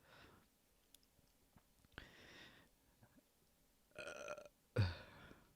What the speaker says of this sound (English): You know what? I'm burping. I burp too much.